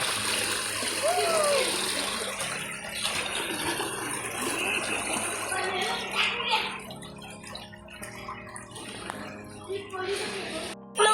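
Cold water splashes continuously at a Lonavala resort, a broad wash of spray and gush running throughout with voices talking and calling over it.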